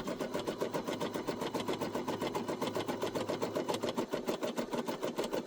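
Brother SE1900 embroidery machine stitching a coffee coaster, a steady fast mechanical chatter of rapid needle strokes in an even rhythm, close and continuous, without talk.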